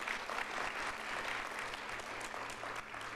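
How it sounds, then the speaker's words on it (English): An audience at a conference closing session applauds with continuous, even clapping that sounds fairly faint and distant, with no voices standing out. "round of applause"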